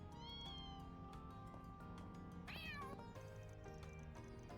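Cats meow in the game Trails Beyond the Horizon, several short mews and one rising, drawn-out call standing out over a constant bed of background music, with no talking.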